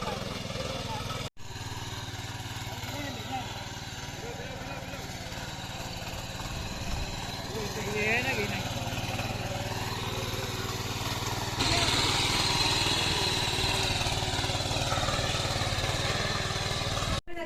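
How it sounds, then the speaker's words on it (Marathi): A hand tractor's small engine chugs steadily while ploughing a field in a Konkan village, a continuous mid-pitched mechanical drone with some background noise. "तुम्ही बघताय की कसा हँड ट्रॅक्टरने इकडे मळी नांगरली जाते"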